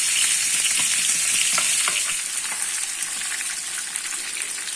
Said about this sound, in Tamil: அடுத்ததா சிக்கனை நம்ம ஃப்ரை பண்ணி எடுத்துக்கலாம்.